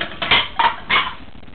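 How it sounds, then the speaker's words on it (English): Glass dishes are handled and knocked together, giving three quick, bright clinks in close succession, near and fairly loud, with no talking. "glass dishes"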